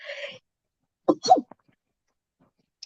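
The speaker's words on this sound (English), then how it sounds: "I'm gonna have to sneeze" A single close sneeze, a short sharp burst after a quick breath, then near silence.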